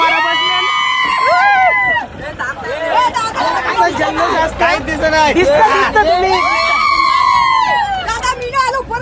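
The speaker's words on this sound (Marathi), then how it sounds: "मग त्यांचा जल्लोष बघा कसा आहे वरती" A village crowd celebrates after a bullock cart race, dense babble of cheering and shouting voices with whoops rising and falling, loud and close, with a person talking over the din.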